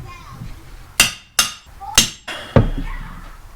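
A hammer strikes a metal entrenching-tool blade clamped in a vise, giving four sharp, ringing pings spaced about half a second apart, each decaying quickly, close and loud.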